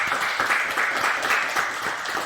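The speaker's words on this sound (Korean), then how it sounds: "우리 모두 오늘 이 시간 영광의 박수를 주님께 올려드리겠습니다" Congregation applause during a New Year's Eve church service, a steady wash of many hands clapping at moderate loudness, sustained evenly from start to finish.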